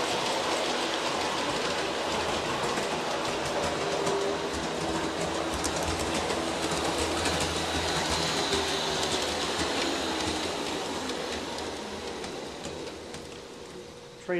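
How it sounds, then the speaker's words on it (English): An Aristo model train rolls through a wide radius turnout on an 8-foot-diameter circle, giving a dense, continuous rumble with fine rapid clicking of wheels on track, close and steady before fading slightly near the end. "Train goes around very well in the turnout now."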